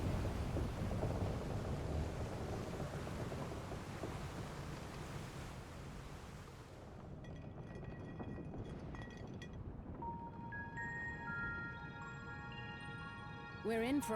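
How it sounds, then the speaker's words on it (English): Thunderstorm aboard a ship's deck in Final Fantasy XIV Dawntrail, with steady rain and a rumbling thunder roll that fades, followed by sparse tonal game chimes and effects in a quieter stretch. "We're in for a proper storm, it seems."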